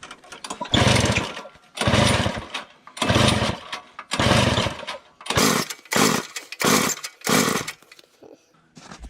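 A Toro S200 snowblower engine fitted with an oversized Tillotson carburetor gets repeated pull-start attempts. Each rough cranking burst is loud and close, and the last few come as quicker, sharper sputters near firing.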